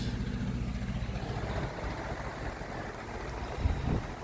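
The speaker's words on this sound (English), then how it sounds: "the vibration you're hearing is the blades are perfectly fine and balanced" A 1963 International 20-inch window fan runs on its low setting, giving a steady, close motor hum with a faint vibrating rattle throughout and a brief louder thump near the end.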